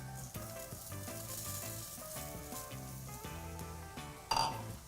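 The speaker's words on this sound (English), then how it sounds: "And we just wanna toast the rice here." Rice toasts in melted butter in a pan for risotto, giving a soft, steady sizzle throughout, with a brief louder stir or clink near the end.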